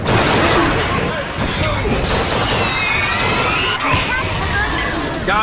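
Rapid bursts of gunfire crack through a chaotic Bioshock Infinite firefight, dense and loud with clattering impacts and shouting voices mixed in throughout.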